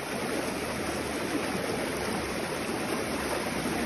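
A strong current of stream water rushes steadily and loudly, a dense unbroken roar with no voices over it.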